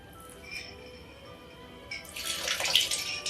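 Ice cold water pours into a bowl of homemade pie dough, a close splashing trickle that starts softly and builds over the last second or so.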